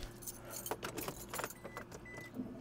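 Keys jangle repeatedly in several bright bursts against a steady low hum inside a second-generation Toyota Prius as it is being started, with no talking.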